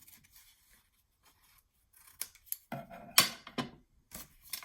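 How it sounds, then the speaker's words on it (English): Scissors snipping the corners off paper for a Halloween junk journal mini album, a quiet pause and then a series of close, crisp cuts and paper rustles. "I want to just cut off the corners just so it's not bulky."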